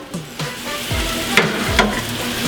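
Onions fry golden brown in a pan with a steady sizzle, broken by a few clattering stirs of a utensil against the pan, close and clear with no talking.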